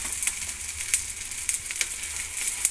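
Wheat roti sizzling in oil on a hot pan, a steady crackling fry with scattered sharp pops and spits, close and fairly quiet, with no voices.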